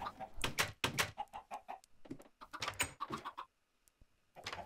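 Blocky chickens in Minecraft cluck in short repeated bursts, fairly close and clear, with brief pauses between the calls.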